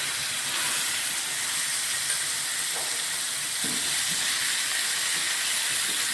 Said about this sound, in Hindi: एक पैन में मैं 2 टेबलस्पून इसके अंदर ऑयल का शामिल करने लगी हूँ और मैरिनेट की हुई चिकन को अब इसके अंदर हम शामिल करेंगे